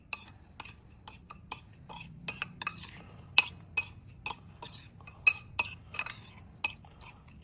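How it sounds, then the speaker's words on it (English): BBQ marinade with salt and black pepper mixed in a bowl, giving a run of light, irregular clinks and taps of utensil against the bowl over a low background hum. "Now mix everything."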